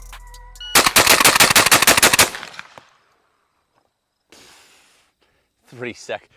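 A Mossberg shotgun fires about ten rounds in a fast, loud, rhythmic burst lasting roughly a second and a half, then falls quiet apart from faint handling and a brief voice at the end.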